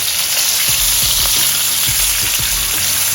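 A steak sears in a hot pan for a beef salad, a loud steady sizzle and crackle filling the moment with a few soft stirring knocks underneath and no voices.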